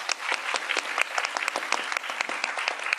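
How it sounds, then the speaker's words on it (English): Close, lively audience applause for panelists at the end of a conference session, individual claps distinct and rhythmic throughout. "So please, a round of applause for our panelists."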